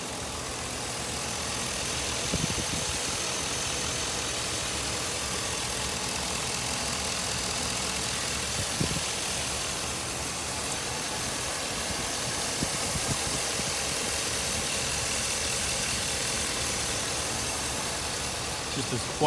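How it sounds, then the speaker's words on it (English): A 5.3-liter V8 engine in a 2004 Chevrolet Tahoe idles steadily and smoothly for a long stretch, a constant low rumble heard up close, with brief faint clicks now and then. "So it's a very good sounding engine here."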